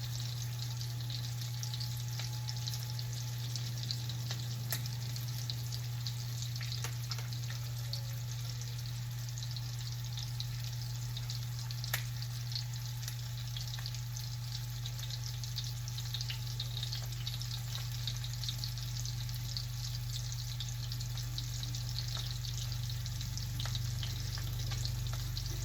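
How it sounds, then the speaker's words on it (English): Lamb chops searing in a hot pan give a steady, close sizzle and crackle that runs unbroken throughout, with a low constant hum beneath and no talking. "We just want to sear them on both sides just to lock in the flavor."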